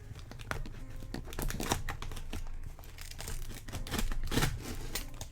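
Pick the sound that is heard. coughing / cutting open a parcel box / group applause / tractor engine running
cutting open a parcel box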